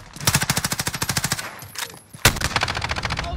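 Automatic gunfire in the shooter Modern Warfare, rapid rhythmic bursts of loud shots broken by a short pause, then another sharp blast and renewed firing.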